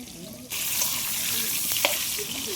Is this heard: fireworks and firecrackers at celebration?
no